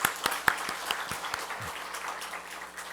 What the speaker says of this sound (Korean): 다시 한번 박수로서 축하해 주시기 바랍니다.